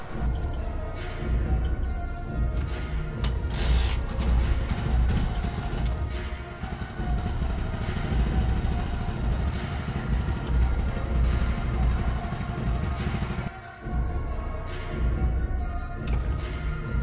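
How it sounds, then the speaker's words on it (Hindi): A motorcycle engine revs and strains while pulling apart two interlocked textbooks, a loud rough mechanical roar with rattling and a jangling clatter, dipping briefly near the end before surging again. "हम इसे बाइक से खींचने की कोशिश कर रहे हैं।"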